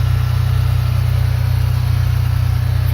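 A 1999 Ferrari 550 Maranello engine idles with the bonnet open, a steady, loud, deep rumble with an even rhythmic pulse, close by and with no talk.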